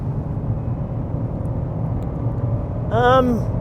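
Twin-turbo V6 of a 2017 Genesis G90 hums steadily from inside the cabin, then a brief rising whine near the end as the throttle opens, with a voice over the drone.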